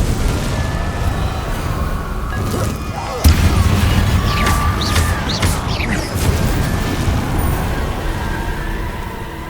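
Confringo blasting spells burst in Hogwarts Legacy, a sharp crashing explosion followed by crackling blasts and rumbling debris over a steady low background roar, fairly loud and close.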